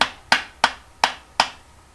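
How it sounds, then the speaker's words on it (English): Screen door corner pieces are hammered into the ends of short rails, giving four sharp, evenly spaced strikes about a third of a second apart. Each hit is crisp, close and isolated, with no talking over them. "take the corners, stick them into one end of the short rails, like this, and basically just hammer it in"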